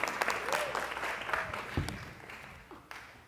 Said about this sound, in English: Everyone give Joe a round of applause